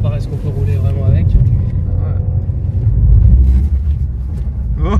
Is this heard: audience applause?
no